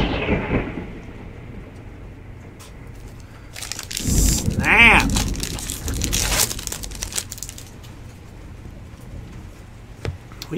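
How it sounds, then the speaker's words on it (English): Thunderstorm with rolling thunder and steady rain, a loud rumbling burst swelling in the middle over constant rainfall, with faint crinkling noises nearby. "We definitely got a storm going on here, folks."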